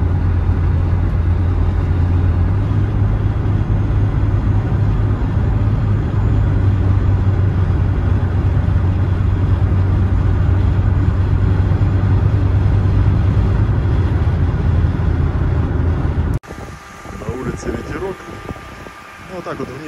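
A 1999 Hyundai Lantra with a 1.6 engine drives along with a steady, even cabin drone of engine and road noise for most of the stretch, then the sound cuts off abruptly.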